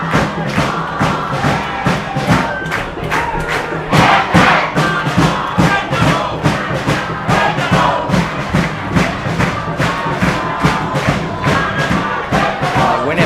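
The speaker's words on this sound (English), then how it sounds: "the crowd behind them. The atmosphere is all England here." A loud stadium crowd roars and chants for England at a senior world cup semi-final against Australia, a dense continuous din with rhythmic thumping pulses and shouted surges throughout.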